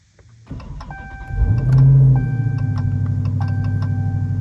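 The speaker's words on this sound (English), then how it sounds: "All right, time for the cold start." A car's engine cold-starts on a frosty morning: a short cranking burst, then a loud catch and a rising idle that settles into a steady, close rumble with faint clicks and whine on top.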